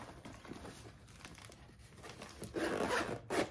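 The zipper of a bug out bag is pulled open in a quiet room, a close, raspy zip that builds to a louder pull near the end with crinkling fabric. No one speaks.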